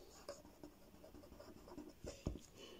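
Pen strokes scratch across paper in short irregular bursts, quiet and close, with a couple of firmer taps near the end; no voices.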